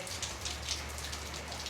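Light rain falls steadily on a surface next to a house during a heavy downpour with flooding, giving a soft, continuous patter with scattered close drop hits and a low steady hum underneath.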